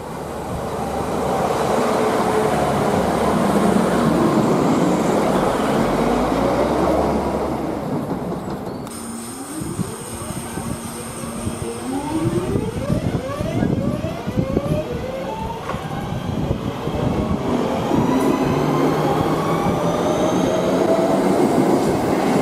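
A train passing along a Manchester railway line, a loud rumbling roll that shifts into squealing wheels and rhythmic clickety-clack over the rails, close and continuous for the whole stretch, with no talk.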